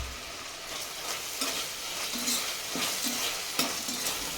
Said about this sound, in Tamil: இப்போ இது கூடவே கல்லுப்பு கொஞ்சமாக சேர்த்துட்டு வதக்கி விட்டுக்கலாம்.